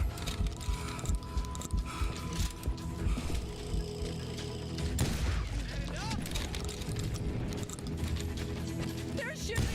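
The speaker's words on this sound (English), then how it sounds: "They're shooting in the street!" Shooting in a street in Call of Juarez: Gunslinger: a busy western gunfight with repeated shots and mechanical clicks over a continuous bed of game noise, with voices mixed in.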